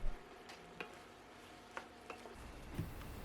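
Eggplant stir-fries in ssamjang sauce with scallion and pepper, giving a soft, steady sizzle broken by a few light scraping stirs and clicks, close by with no voices.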